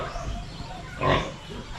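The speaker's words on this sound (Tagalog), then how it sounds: "At yung mga baboy natin dito" Pigs on a backyard farm grunting, with a louder, brighter oink swelling briefly near the middle over a low, steady pen murmur.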